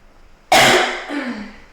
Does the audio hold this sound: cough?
yes